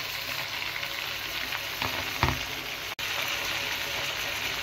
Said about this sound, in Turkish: Arkadaşlar bakın hayvan yağımız kızardı.